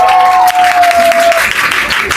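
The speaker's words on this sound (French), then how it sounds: "Applaudissez s'il vous plaît pour Ariana." Audience applause for Ariana at a show event. Loud, dense clapping fills this short stretch, with a brief sustained tone and some crowd voices mixed in during the first half.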